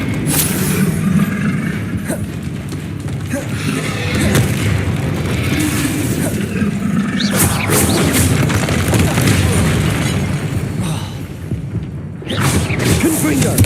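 Confringo blasting spells in Hogwarts Legacy land as a run of heavy booms and crashes amid whooshing combat effects, fairly loud and sustained, with a voice calling spell names between impacts.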